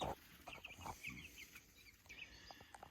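Young meat chickens cheep and cluck softly in a brooder, in short scattered calls at close range. No one talks.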